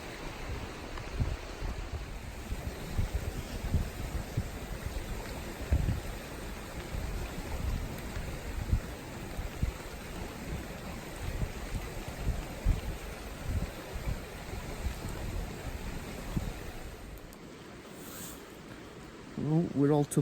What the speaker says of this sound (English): Still raining. I can hear it over the water.